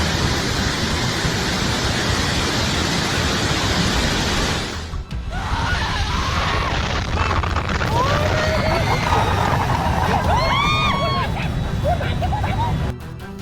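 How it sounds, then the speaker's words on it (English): Black water roars through an opened emergency floodgate in Pakistan, a loud, steady gushing like a waterfall that fills the whole clip, with a brief dip midway and voices or faint cries rising over the torrent. "black water gushed like a waterfall, roaring as the emergency floodgate opened."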